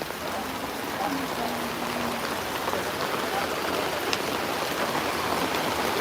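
Steady rain falls at Gabtoli cattle market, a dense, even hiss of drops on surfaces that fills the whole stretch, with faint background sounds underneath.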